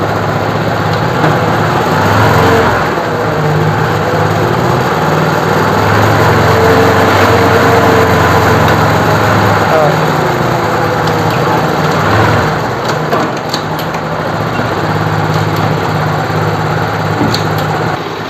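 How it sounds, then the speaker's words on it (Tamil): A car engine runs during an engine and gearbox flush, droning loudly and steadily close by for about eighteen seconds with only slight shifts in pitch as the accelerator is eased. "மெதுவாக ஆக்சிலேட்டர் கொடுத்து ஒரு கியராக சேஞ்ச் பண்ணி கியர் பாக்ஸை சர்க்குலேஷன் பண்ணணும், அதாவது ஃப்ளஷ் பண்ணணும்"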